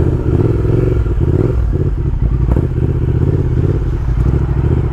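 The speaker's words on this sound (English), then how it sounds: "this is a aftermarket Vance and Hines exhaust." Close and loud, the twin-cylinder 2020 Triumph Speed Twin with its aftermarket Vance and Hines exhaust thrums steadily under throttle, its rapid firing pulses shifting slightly in pitch while riding.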